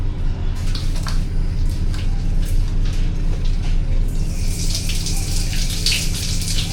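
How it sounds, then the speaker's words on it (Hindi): Someone bathes aboard a cargo ship on the Amazon River, pouring water over themselves in a continuous, close splashing rush with a brighter spray near the end. "यूं लग रहा है अनिल कपूर नहा रहा हो जैसे।"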